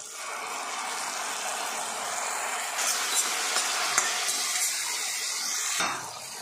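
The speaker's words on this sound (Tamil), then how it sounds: "இப்போ தக்காளி வந்து எண்ணெய் பிரிஞ்சு வர அளவுக்கு நல்லா வதக்கிடணும்" Tomato paste sautés in oil in a pan for banana leaf paneer masala, a constant bright sizzle with a few soft stirring scrapes and clicks near the end.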